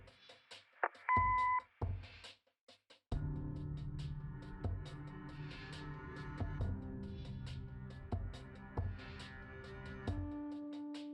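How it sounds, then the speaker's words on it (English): A short electronic answering machine beep sounds near the start in the Kathy Rain game, then a steady low hum and faint background noise continue to the end. "Leave a message after the beep."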